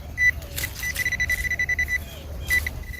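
A metal detector gives rapid electronic beeping and chirping in short bursts over low rumble, a quick clicky tone repeating irregularly, fairly faint.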